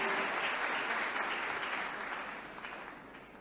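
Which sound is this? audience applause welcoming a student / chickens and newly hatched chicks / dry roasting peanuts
audience applause welcoming a student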